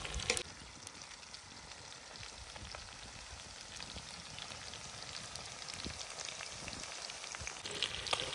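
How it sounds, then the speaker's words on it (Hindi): Chicken pieces frying in oil in a karahi until browned, a steady close sizzle with faint crackles and occasional stirring scrapes throughout. "चिकन को ब्राउन होने तक हमने फ्राई कर लिया"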